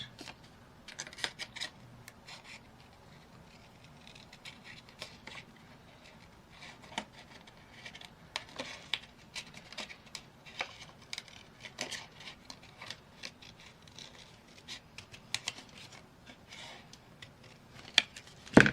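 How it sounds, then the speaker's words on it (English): Repeated crisp snips and rustles of scissors cutting paper, irregular and close, with light handling noises in between. "I better get my scissors in."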